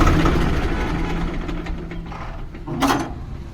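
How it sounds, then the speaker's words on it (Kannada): Swaraj 733 FE tractor engine running close by with a steady low rumble and mechanical chatter, rising briefly in a rev near the end. "ನೋಡಿ, ಈ ಟ್ರ್ಯಾಕ್ಟರ್ ಬಂದ್ಬಿಟ್ಟು 1800 RPMಗೆ ರೈಸ್ ಆಗುತ್ತೆ."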